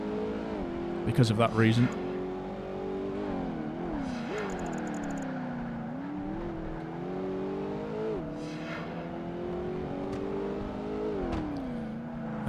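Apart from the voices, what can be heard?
race car engine revving in Project Gotham Racing 2 video game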